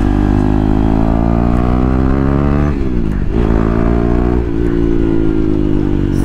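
A KTM Duke 390 or Apache RR 310 motorcycle engine hums loud and close in a steady drone, its pitch dipping and rising as the rider shifts and revs around mid-ride, with no talk.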